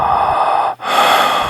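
A loud, deep breath drawn in with a raspy, hollow tone, a brief pause, then a long heavy exhale, close and alone.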